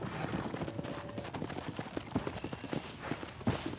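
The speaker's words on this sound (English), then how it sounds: "Hit your horse and wait for me by the stable." Horse hooves clip-clop steadily across ground in the Red Dead Redemption video game, a close, even walking rhythm over a low wash of ambient background noise.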